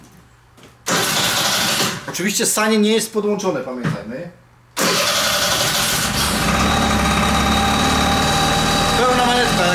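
A Kymco Vitality scooter with its air filter connected cranks and fires up after someone speaks, then settles into a loud, steady idle. Talking continues briefly over the engine.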